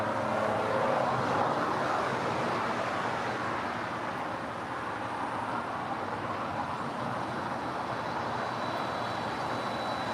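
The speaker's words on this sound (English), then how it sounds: "Moss Air Cargo 767-200 now finalizing her taxi here on the south side." A Boeing 767-200 cargo jet taxis on the south side of LAX, its engines a steady broad roar with a low rumble that holds fairly constant and moderately close throughout, with no talk.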